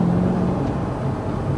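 A car engine hums steadily at a low, even pitch, droning continuously with no voices.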